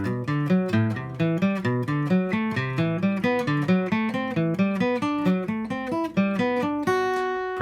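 Seventh-chord arpeggios played briskly on a melodic instrument, a fast even run of rising and falling notes moving through changing chord shapes, loud and close with no talking.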